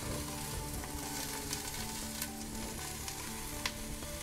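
Mushrooms and garlic frying over high heat, a dense continuous sizzle and crackle close up with occasional soft stirring, no voices.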